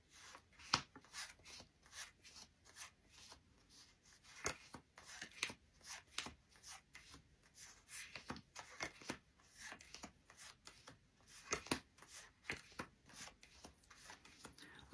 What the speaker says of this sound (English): we've had a shuffle, an entirely random blindfolded cut of the deck